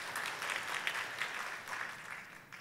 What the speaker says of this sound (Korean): 우리 박수로 한번 들어볼게요.